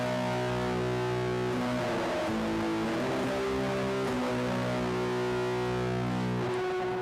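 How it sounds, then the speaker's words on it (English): Electric guitar played through a distortion pedal, a sustained, thick chord drone that shifts between a few held chords, steady and loud with no talking. "I'll crank up my distortion"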